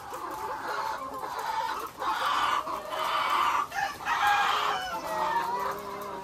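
Layer hens cluck and squawk together inside a poultry building, a busy, fairly close chorus of overlapping calls with short pauses between bursts.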